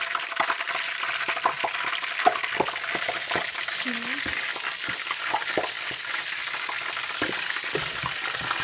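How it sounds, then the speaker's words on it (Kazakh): Carp fish sizzling and crackling steadily in a frying pan, a dense continuous fry with small pops and spatters throughout, close and moderately loud, with faint occasional voice in the background. "Біреуін қуырып көреміз."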